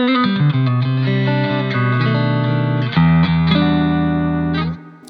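Clean electric guitar from the neck pickup of an Ibanez TQM2 through a Laney Loudpedal amp: a loud, sustained run of chords and notes with a thick tone and a little reverb, ringing out alone and then cutting off.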